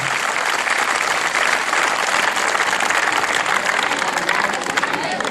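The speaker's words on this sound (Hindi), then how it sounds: "तो जोरदार ताली बजाएं कि सुआ नृत्य के लिए है।" Loud, dense audience applause for a Sua dance performance by village girls at an Earth Day event, a continuous roar of clapping from a crowd lasting the whole stretch.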